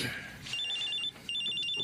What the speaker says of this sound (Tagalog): Oh, may tumatawag sa cellphone mo.